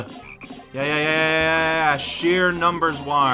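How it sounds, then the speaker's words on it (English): A frog croaks loudly in the Pikmin video game, a long sustained croak followed by shorter broken croaks, with a player talking over it. "Oh, there's that frog there."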